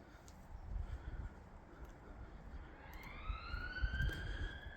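A siren wails faintly in the distance, rising in pitch over low background rumble in an otherwise quiet outdoor setting.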